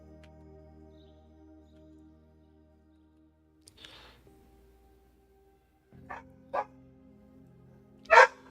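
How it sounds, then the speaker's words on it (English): Dogs bark in a few short separate bursts, the last one loudest, over a quiet low background hum with no talking. "Dogs are barking."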